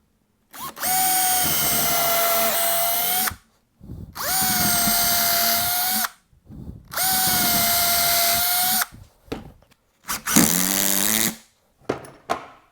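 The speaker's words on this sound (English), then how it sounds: "I put little marks on my wood so I make sure I don't drill into those other" A power drill whines while drilling into wood in three long sustained bursts with short pauses between, followed by a shorter higher-pitched burst and a few brief mechanical clicks.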